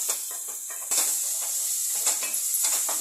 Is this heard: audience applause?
no